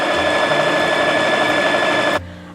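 A sewing machine stitches fabric for a babydoll dress, a steady close mechanical whir with fast rhythmic needle clatter that stops sharply near the end, leaving quiet room tone.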